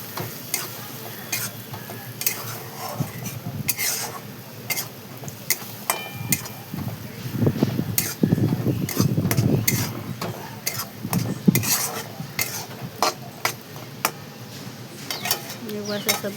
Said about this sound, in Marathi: त्यामध्ये आपण टाकून घेऊया आणि पुन्हा एकदा असं मस्त मिक्स करून घेऊ अंडा